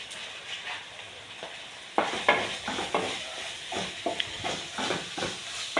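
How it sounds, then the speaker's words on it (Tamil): Spices and masala sautéing in a pan for prawn thokku, soft sizzling with repeated scraping stirs of a spoon, the stirring strokes growing louder and more rhythmic after the first couple of seconds. "போட்டு நம்ம வதக்கிக்கலாம்."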